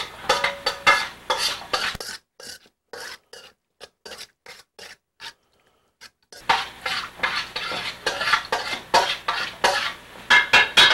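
Worcestershire sauce, lemon juice and mustard stirred together in a bowl, a steady close scraping and rubbing rasp that stops briefly midway, leaves a few scattered taps, then resumes in busy strokes.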